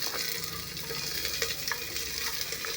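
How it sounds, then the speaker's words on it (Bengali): Chopped garlic and ginger fry in a pan for a chicken stew, giving a continuous soft sizzle with light stirring scrapes, faint and steady with no voices. "এবারে আমার রসুন আর আদা কুচি ভাজা ভাজা হয়ে গেলে এর মধ্যে দিয়ে দেব পেঁয়াজ"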